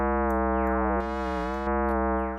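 An additive synthesizer tone sounds with many stacked harmonics, made inharmonic and caught in a feedback loop, its partials sliding and bending in pitch as the timbre shifts, loud and continuous without any voice.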